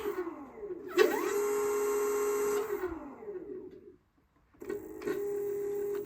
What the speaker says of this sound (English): First initial test. Motor's going the right way.